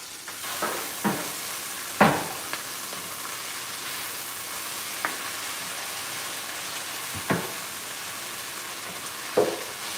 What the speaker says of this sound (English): And I'm gonna stir this up.